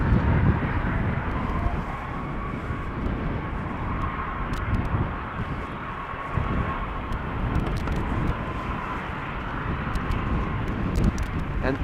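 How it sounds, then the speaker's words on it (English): An Airbus A330 airliner taxies at Amsterdam Schiphol Airport, a continuous loud jet engine drone with a steady hum, heard with some wind buffeting on the microphone. "as the A330 is taxiing towards the threshold"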